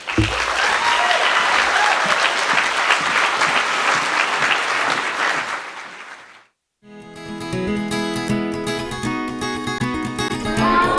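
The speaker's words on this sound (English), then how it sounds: "I do give you a round of applause" An audience applauds loudly and steadily at an evening speaking event for about six seconds, then the clapping cuts off abruptly and music follows.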